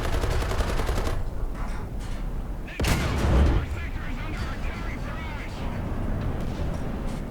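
A T54E1 tank cannon fires in War Thunder, one loud, heavy boom near the three-second mark standing out over a constant rumble of engine and battle noise, with a voice talking over much of it.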